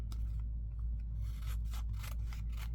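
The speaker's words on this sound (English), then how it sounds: "I'm just going to trim it with my scissors" Scissors trimming the overhanging edge of a paper pocket for a junk journal, several short crisp snips and rasping cuts in an irregular rhythm, close and clear with no talk.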